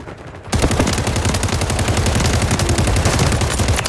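Sustained automatic gunfire in a shooter video game, loud and close, with a rapid unbroken rattle of shots starting half a second in and running to the end.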